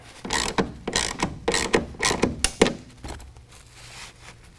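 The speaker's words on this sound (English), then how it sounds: "tighten it down with a 1/2 inch wrench or ratchet" A ratchet tightening a 1/2 inch bolt on a TruXedo Pro X15 tonneau cover on a 2019 Chevy GMC 1500, a quick series of close, loud clicking strokes that trail off into faint mechanical rattling.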